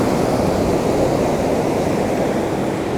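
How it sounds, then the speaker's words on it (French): Ocean waves washing ashore, a steady loud rushing wash of surf with a windy, noisy texture and no voices. "Les vagues commencent à arriver à moi là."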